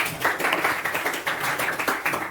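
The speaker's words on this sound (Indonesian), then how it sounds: "Boleh tepuk tangan dulu." A classroom group claps hands together in a short round, a moderately quiet series of rhythmic, slightly uneven claps pulsing about four times a second.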